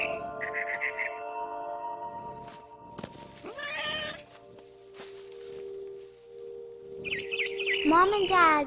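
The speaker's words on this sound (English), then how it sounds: "Then I heard chirping outside my window. It was a barn swallow going back to her nest." A barn swallow chirps in short bursts of bright, high tweets from the video game What Remains of Edith Finch, heard near and then again at the end over music and game ambience.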